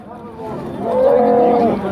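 A cow lows with one long, close, drawn-out moo at a busy livestock market, with faint crowd noise behind it.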